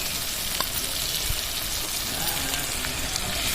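Chicken curry masala with freshly added ginger paste sautéing in a pan, giving a continuous, even sizzle and hiss with an occasional faint stirring knock. No voices.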